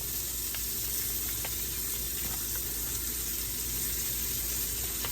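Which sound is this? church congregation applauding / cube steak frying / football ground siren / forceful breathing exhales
cube steak frying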